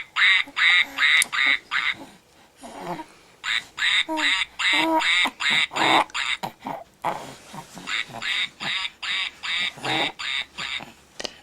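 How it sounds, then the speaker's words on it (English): A duck, or a baby's toy duck, makes loud, close quacks in rapid bursts of several calls each, separated by short pauses, over about eleven seconds. "He likes the ducky."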